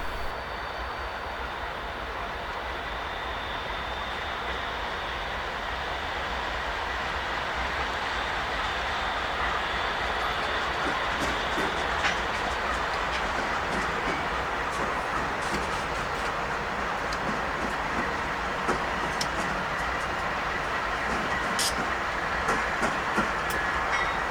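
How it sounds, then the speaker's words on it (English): A train rumbles steadily past on the rails in central Kansas, a constant loud roar with scattered clicks and clanks from the wheels. "And another train which I filmed from a different angle"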